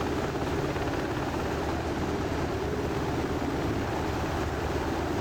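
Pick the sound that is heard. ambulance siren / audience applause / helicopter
helicopter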